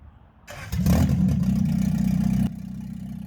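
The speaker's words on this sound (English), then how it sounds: "it was running on open headers, which is why it was so loud" Car engine running on open headers in a garage, bursting into a loud raw roar with clattering, holding briefly, then dropping to a lower idle.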